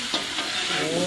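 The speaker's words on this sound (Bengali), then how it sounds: "আমরা এখন চিলি চিকেনের চিকেনটা ভাজবো" Chicken pieces fry for chilli chicken at an outdoor picnic, giving a steady close hiss and sizzle with a couple of brief stirring bursts, and no talk.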